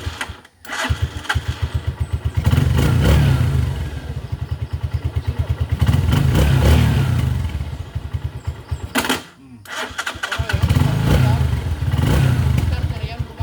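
A motorcycle engine being cranked by its electric starter in repeated bursts, with rapid chugging pulses that stop and restart twice, loud and close, with someone talking briefly nearby.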